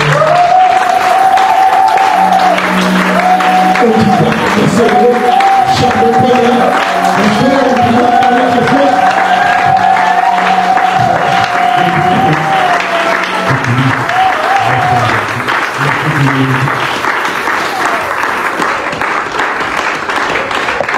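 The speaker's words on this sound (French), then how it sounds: "sous un tonnerre d'applaudissements, nous recevons le frère, le pasteur" A church congregation applauds steadily to welcome a pastor during a worship service. The dense clapping lasts about twenty seconds, mixed with sustained musical tones.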